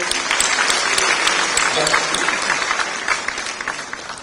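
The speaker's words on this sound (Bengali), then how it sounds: "তাদের জন্য একটা স্পেশাল হাততালি দিতে হবে" A hall audience breaks into sustained, dense applause for a cricket team receiving an award at a prize ceremony, the clapping steady and fairly close for the whole stretch with some voices mixed in.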